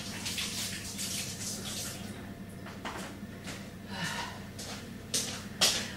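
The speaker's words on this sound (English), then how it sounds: "so wash my hands." Hands being washed under running water at a kitchen sink while cooking a fry-up, steady splashing flow with broadband bursts, a few louder splashes near the end, quiet speech in the background.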